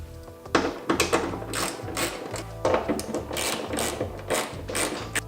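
Small bolts on a motorcycle wing riser kit tightened with a ratchet, giving rapid clicking ratchet bursts in an irregular rhythm, loud and close.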